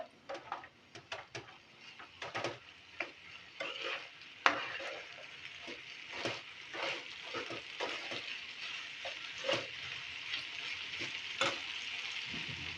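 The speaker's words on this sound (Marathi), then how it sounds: "आता हे सगळं छान परतून घ्यायचं आहे" Rice mixture with a small spoonful of mild red Byadgi chili powder being sautéed in a pan, with steady soft sizzling, repeated scraping stirs and occasional light clinks of utensil against the pan, close up and without talk.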